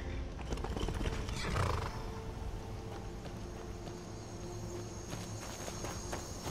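Horse hooves clip-clop steadily on the ground in Skyrim, a close, even walking rhythm with a brief whinny early on, set against a quiet outdoor ambience with faint crickets.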